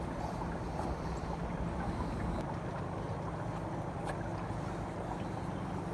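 Low, steady rushing of water filling an RV black tank during a flush, continuous and fairly quiet with a faint gurgling texture and no speech.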